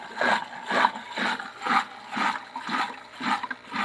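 Water pumped out of an aquarium in a fish warehouse, a steady rushing and gurgling flow that surges in a regular pulsing rhythm, close and moderately loud with no talk over it.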